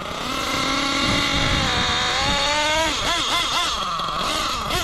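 A small nitro model engine idles during carburetor tuning with a high, buzzy drone, holding steady before wavering and surging slightly toward the end.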